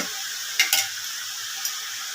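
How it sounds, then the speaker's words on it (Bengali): Cumin powder hits hot oil in a pan already holding turmeric and salt, giving a steady close sizzle with a few sharp scraping stirs of a spoon against the pan. "এখন আমি দিচ্ছি জিরে গুঁড়ো"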